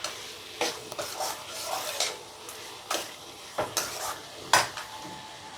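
Chopped tomatoes with salt are sautéed in a pan for tomato gravy, a ladle scraping and clinking against the metal in irregular strokes over a faint sizzle, fairly close and with no talk.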